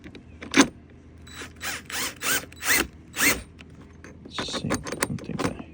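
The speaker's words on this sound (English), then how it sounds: "Then yeah, get a screwdriver." Screwdriver and hand-tool work while fitting SIP folding foot pegs to a Vespa Sprint 125, giving a run of close, loud metallic clicks and scrapes in bursts, then quieter rattling fiddling toward the end, with no talk.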